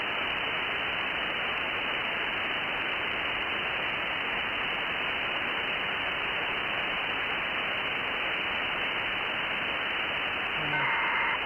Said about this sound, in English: That is the Green Cube sending data down.